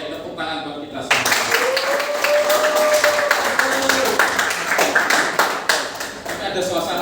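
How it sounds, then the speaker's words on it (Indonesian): A group claps together in a classroom-style session, with a burst of steady, dense hand claps running for several seconds after a brief pause, and a voice heard faintly through it. "tepuk tangan buat kita semua"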